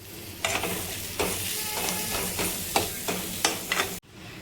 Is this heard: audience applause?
no